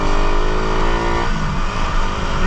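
A Honda TMX 125 motorcycle engine runs steadily and loudly up close during a ride, its rough harmonic drone holding throughout with a slight shift in tone midway.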